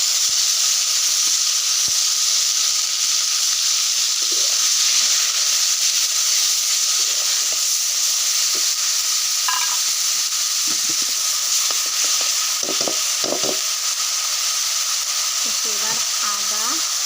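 Whole spices — bay leaf, cardamom, cloves, cinnamon — and onion paste fry in hot mustard oil, giving a loud continuous sizzle and hiss with occasional scraping stirs, no talk.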